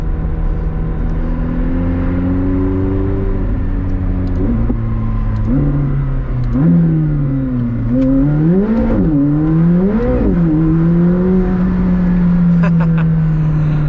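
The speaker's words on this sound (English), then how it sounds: "It does kind of sound different, even though it's the 4-liter twin turbo V8 that's in the 720S." 2021 McLaren 765LT with a 4-liter twin-turbo V8, engine rising and falling through several revs and gear changes, a droning tone that swells and dips repeatedly, heard steadily from close range with road rumble underneath.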